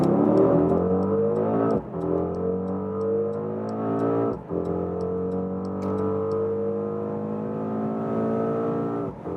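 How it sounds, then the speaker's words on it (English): A Mercedes GLE 63 S AMG Coupé's 4-liter bi-turbo V8 accelerating hard on the German Autobahn, its pitch climbing steadily through gears with brief dips at each shift, loud and close. "more than 600 horsepower from this 4-liter V8 bi-turbo"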